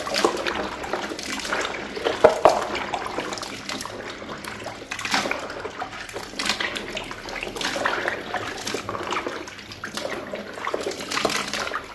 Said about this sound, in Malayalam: നമ്മൾ വൃത്തിയായി എല്ലാം കഴുകിയൊക്കെ എടുക്കുകയാണെങ്കിൽ ഏറ്റവും നല്ലതാണ്.